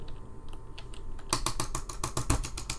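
Rapid clicking during a horror video game, faint scattered taps at first, then a dense run of sharp, close clicks in quick succession.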